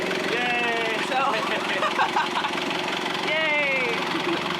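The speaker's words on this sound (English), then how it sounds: "But our engine is working now." A sailboat's engine runs steadily in the background, a continuous mid-pitched drone with a knocking pulse, while voices talk over it throughout.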